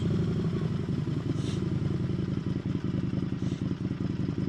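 An Indian FTR 1200 S motorcycle rides along with a steady, throbbing engine rumble and burbling exhaust pulses, continuous and close.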